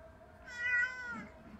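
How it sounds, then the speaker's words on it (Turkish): A cat gives a single clear meow, rising and falling, close by against quiet background noise. "Kedi."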